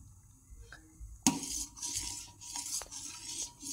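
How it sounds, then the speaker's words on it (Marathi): A spoon stirs a thickening colostrum milk mixture for kharvas in a metal pot, giving quiet scrapes and a few sharp clinks against the pan in an otherwise hushed kitchen. "परत याला असं सारखं ढवळत राहायचं"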